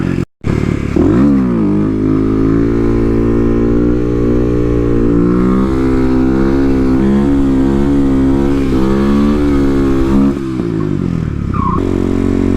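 A Kawasaki KLX250SF supermoto motorcycle engine drones loud and close while riding, its revs rising and falling in steady harmonic sweeps, with a brief dropout at the start and a shift in pitch near the end.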